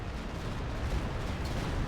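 Artillery strike in Company of Heroes 2, a dense rumbling blast wash of explosions and battlefield noise filling the whole moment, loud and continuous with no clear gaps.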